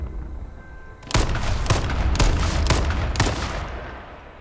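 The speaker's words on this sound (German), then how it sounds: "Ich schieße mal." Five evenly spaced gunshots in the battle royale game H1Z1, loud and sharp with reverberant tails, fired about half a second apart after a quiet moment.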